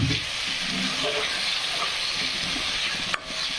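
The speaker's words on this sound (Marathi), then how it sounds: "सर्व मसाले फ्राय होऊ द्यायचे आहेत" Spices frying in oil for a spicy Maharashtrian mutton rassa gravy: a steady, close sizzle with occasional stirring scrapes and a sharp clink near the end, and no talking.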